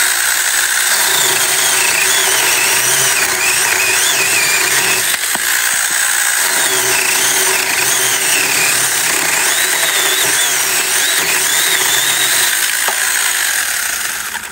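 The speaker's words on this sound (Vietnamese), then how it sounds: "anh em thấy cái hiệu quả của cái cưa xích này ha, rất là gọn gàng mà rất là khỏe nha" A chainsaw cuts through a tree log thicker than a wrist, its engine roaring loud and continuous for the whole stretch with slight shifts in load as it bites.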